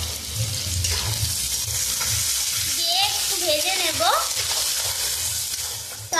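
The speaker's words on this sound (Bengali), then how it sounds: "টমেটো আর পেঁয়াজ কিন্তু ভাজা হয়ে গেছে" Chopped onion and tomato sizzling steadily in a hot pan while a voice speaks over the cooking.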